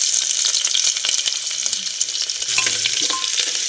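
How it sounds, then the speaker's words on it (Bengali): Whole garlic and ginger sizzle steadily in hot ghee, a dense close hiss filling the whole stretch with scattered small pops and scrapes of stirring. "ঘি দিয়ে দিচ্ছি। আমরা গোটা রসুন দিয়ে দিলাম,"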